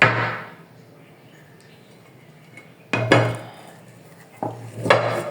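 A dish of set mango pudding is handled and tipped over to turn out the pudding, with two sharp clatters of the dish against a surface a couple of seconds apart and a quiet stretch between.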